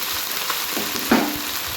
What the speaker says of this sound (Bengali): নিম পাতাগুলো ভাজা ভাজা একটু হালকা হয়ে গেলে তার মধ্যে একটু লবণ আর হলুদ দিয়ে দেবে